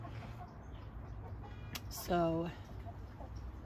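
A chicken lets out one short, clear cluck over a steady low background hum, while a voice briefly says a single word.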